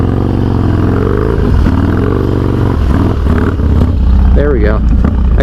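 A motorcycle with its rear tire aired up drifts, producing a loud, continuous engine roar with shifting pitch and rough, clattering texture close to the mic.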